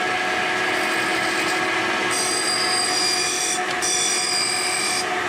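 A planer molder machines wood with a continuous loud grinding, rasping roar, and high whining cutter tones cut in and out partway through.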